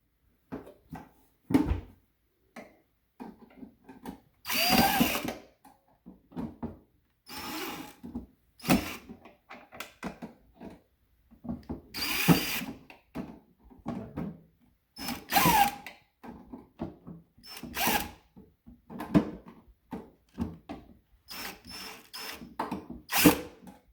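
Power drill removing fasteners from a Saga Precision series CNC carriage during maintenance, heard as close, fairly loud whirring bursts of a second or two separated by short pauses, with no talking.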